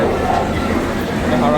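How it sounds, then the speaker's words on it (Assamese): A train at Howrah railway station in Kolkata rumbles steadily throughout, a continuous loud low roar with faint rail clatter, while voices talk over it on the busy platform. "চাওক এখন ট্ৰেইন চাওক বুলেট ট্ৰেইনৰ নিচিনা"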